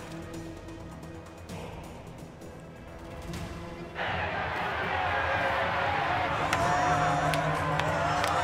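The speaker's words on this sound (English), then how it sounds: "Damn, the crowd really is loving us." Arena crowd in Assassin's Creed Origins roaring and cheering, a steady wash of many voices that swells and grows louder midway, with scattered whoops and game sounds on top.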